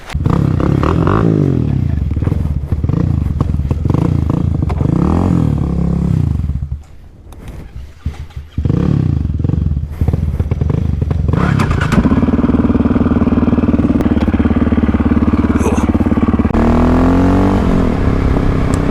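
Supermoto-style dual-sport motorcycle engine, a KLX351 or KTM 625SMC, pulling hard from low revs on twisty roads, loud and close with continuous roar, a brief dip mid-ride, then rising revs and gear changes.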